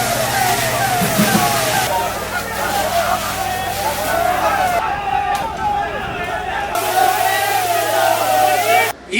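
Police water cannon spraying jets of water at Youth League protesters, a loud continuous rushing and sloshing of water under a busy crowd hubbub and voices, with steady engine hum from vehicles.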